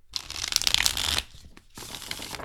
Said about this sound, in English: This deck is a little bit harder or stiffer to shuffle compared to other decks.